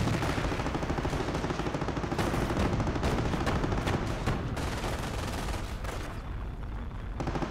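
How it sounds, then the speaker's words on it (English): Dense, continuous infantry rifle and machine-gun fire in the Company of Heroes video game, during a harbour battle, a steady loud crackle of overlapping shots with no pauses. "Also taking shots from the infantry back there"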